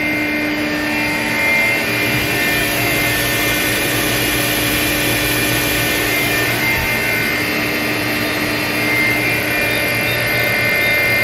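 A TRAK TMC7 vertical machining center spindle running at 500 RPM gives a steady, continuous whir with a constant hum and broad hiss, even in loudness throughout with no talk.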